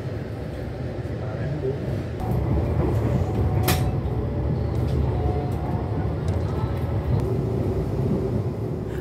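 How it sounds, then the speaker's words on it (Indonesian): Gajayana passenger train pulling out of Cirebon station at night, a steady low rumble and rolling rattle of the moving carriages with a brief sharp squeal partway through, continuous and close throughout. "kereta api Gajayana diberangkatkan kembali dari stasiun Cirebon"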